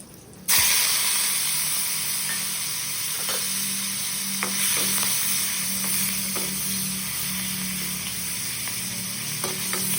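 Rohu fish pieces sizzle steadily in hot oil after a sharp onset, a dense continuous fry with occasional pops and crackles, close and fairly loud with no talking.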